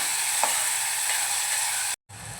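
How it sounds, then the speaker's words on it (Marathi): Chopped onion sautéing in a pan for a Malvani-style onion chana dal, a steady loud sizzle with soft stirring scrapes, briefly cut to silence near the end before the frying resumes. "छान परतून घेऊया कांदा नरम होईपर्यंत आपण परतून घेऊया"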